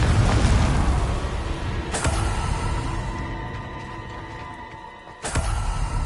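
A Confringo spell explosion in Hogwarts Legacy, a deep booming blast with a sharp crack at the start, fading into a low rumble, then a second sudden impact near the end, with no talk.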